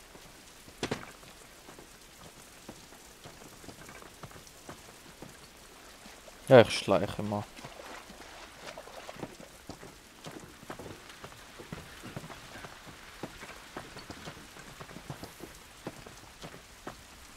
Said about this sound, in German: Unser Regen ist nicht gut für uns.